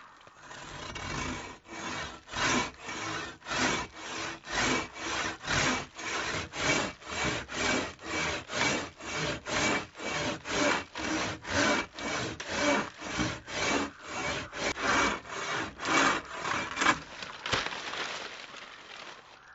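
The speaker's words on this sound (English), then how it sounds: "Saws have been a means to process wood in a more efficient and safe way for quite a while now." Silky Outback Series hand saw cutting through wood, a long run of steady rhythmic rasping strokes, each push and pull clearly separated, close and alone without talk.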